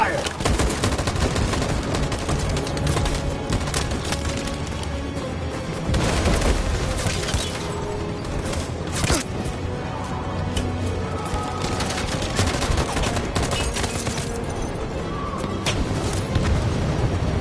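Dense, continuous gunfire and explosions from the video game Detroit: Become Human fill the whole stretch, a loud barrage of overlapping shots and booms with no break.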